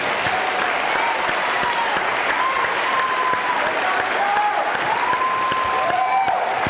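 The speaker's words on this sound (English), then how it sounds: "Please join me in a big round of applause for them." Steady applause from a theater audience at a gubernatorial primary debate, continuous and even throughout, with a faint voice or tone drifting beneath the clapping.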